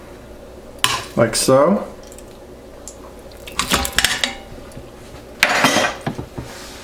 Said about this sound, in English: we'll go ahead and place this meat into the pressure cooker